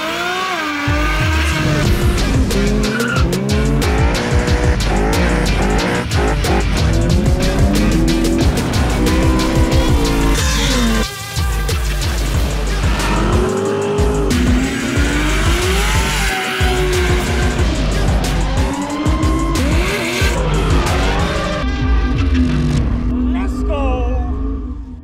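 Two turbo LS Holden Commodores, a VH and a VL, race hard, with loud engine roar, repeated gear changes and tyre squeal that go on nonstop for about twenty-five seconds.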